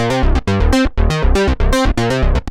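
Factory preset on a Roland JU-06A Boutique synthesizer, playing a rhythmic sequence of thick, bright chord stabs and bass notes in short repeated bursts, loud and close with no voice.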